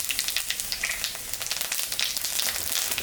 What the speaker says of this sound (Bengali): মাছ ভাজা তেলের উপরে জিরা,